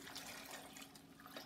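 Cold water, about a liter, pours steadily into a container while making guava and pineapple juice, a continuous close, even rushing flow with no gaps.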